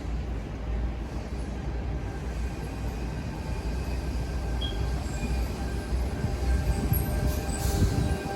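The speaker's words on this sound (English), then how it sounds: "The green signal was for this Tangara train, which is a T3 service from Liverpool." A Sydney Tangara T3 suburban train rumbles steadily past at Central Station, a continuous low rolling roar of wheels and motors that grows slightly louder toward the end, with no voices.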